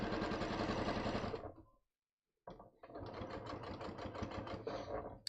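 Sewing machine stitching a drawstring hem on tapered trouser legs, a close, fast rattling whir that stops briefly for about half a second of silence, then starts again and runs steadily to the end.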